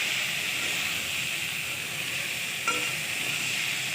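Pieces of fried fish sizzle in a pan with bitter gourd and mango, giving a continuous, close, even frying hiss with one brief clink partway through.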